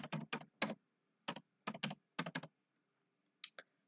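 Bursts of typing on a computer keyboard while entering homework into an electronic class journal, with clustered keystroke runs separated by short pauses, close and clear, no talking.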